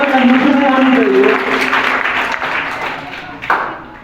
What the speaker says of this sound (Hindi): जोरदार तालियां में कंजूसी नहीं होनी चाहिए।